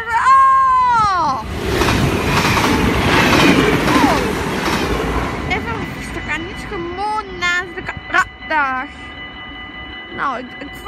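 A train passes nearby with rumbling wheels and clatter, while a loud horn blast sounds at the start and later shorter horn toots and squeals ring out as the noise fades; no talk is heard.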